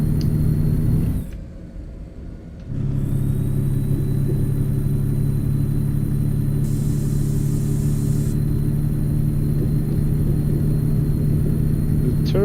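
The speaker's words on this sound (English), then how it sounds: "The turbo sounds pretty good in this one, I think." A Kenworth T610 truck in American Truck Simulator, pulling a drop deck quad trailer, drones with a steady low engine hum and a thin high turbo whine, briefly muffled before resuming at constant pitch.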